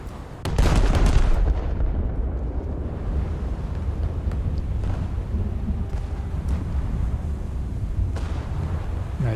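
Battleship main guns firing and shells striking a distant Kongo-class enemy ship in a naval video game, one sharp heavy blast followed by a long, steady rumbling roar under wind-like noise.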